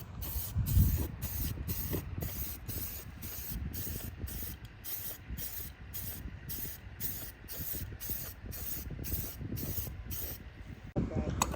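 Aerosol spray paint hisses in a rapid series of short bursts as coats go onto a stainless air filter clamp for a Humvee, close and fairly quiet, with a person speaking over it.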